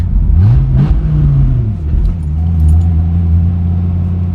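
A deep, loud Dodge Viper engine revs up and settles into a throaty, rumbling idle, heard close by with no talking.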